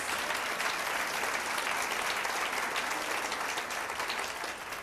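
An audience at an author event with JoAnne Harris applauds, a dense, loud, sustained clatter of many hands that stays even and fades slightly at the very end.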